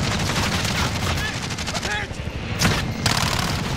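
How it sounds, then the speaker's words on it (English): Rapid gunfire rattles in a video game, bursts of shots over a dense noisy backdrop with a sharp blast near the end. "I want to try and shoot him out of the sky before he hits the ground"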